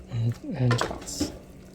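Buckwheat pasta tossed with potatoes and cabbage in a pan, with a short burst of clattering metal and utensil scrapes close by, partly under a brief voice.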